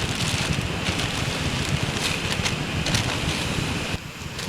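A steady, full rush of flowing water fills the whole stretch, a creek swollen after heavy rain roaring continuously nearby, dropping slightly near the end.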